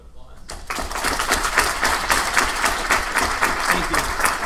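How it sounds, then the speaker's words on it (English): After a short quiet moment, an audience at a talk breaks into steady, moderately loud applause that keeps going evenly to the end. "Let's give Thomas a round of applause."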